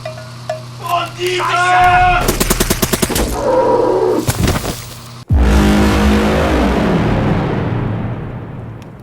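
Gunfire in a tabletop Bolt Action battle set among Germans: scattered shots and a rapid burst of machine-gun fire over a low engine rumble, then a loud blast trailing into a long fading roar.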